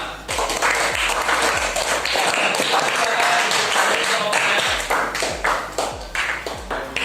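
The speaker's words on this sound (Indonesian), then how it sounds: "Beri aplaus pada Niko dari kelompok 5" A classroom applauds for Niko from group 5, a burst of clapping hands that fills the room and then thins into scattered claps, with some voices mixed in.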